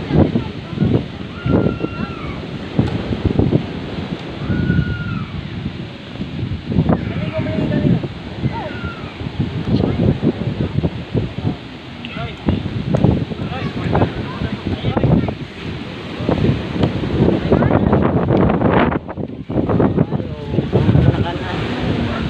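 Steady wind buffeting the microphone over the wash of rough sea waves, with someone talking throughout.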